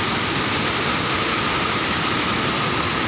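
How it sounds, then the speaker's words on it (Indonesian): Guarangreng waterfall during a flash flood, a loud, dense, continuous roar of rushing water that holds steady throughout with no pauses. "Air terjun Guarangreng di Amuk Banjir Bandang"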